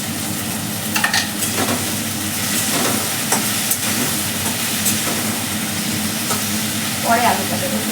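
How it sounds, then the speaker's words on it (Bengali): Okra frying in a pan gives a steady, close crackling sizzle with occasional louder stirring scrapes, continuous throughout. "ওদিকে ভেন্ডিটা ভাজছি"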